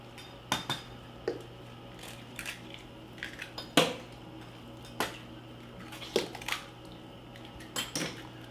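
Two eggs being mixed in a bowl for a soft shell crab batter, heard as scattered clinks and taps of a utensil against the bowl, fairly close and moderately quiet over a steady low hum, with no talk.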